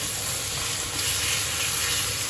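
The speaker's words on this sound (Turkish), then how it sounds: "Hafif yağda zaten kızartıyorum. Yağın çoğunluğu da zeytinyağı." Spiced food frying in a shallow layer of mostly olive oil, giving a steady, close sizzle and hiss without pause and no talking.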